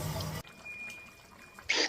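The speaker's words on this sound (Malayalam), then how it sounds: "ബാക്കിയുള്ള 6 ഗ്ലാസ് വെള്ളം കൊണ്ട് നമ്മളിപ്പോൾ ഒഴിക്കുന്നു" Water pours into a pot of Kannur-style chicken curry in a short gushing burst at the start, then a quiet lull before another brief splashing pour at the end.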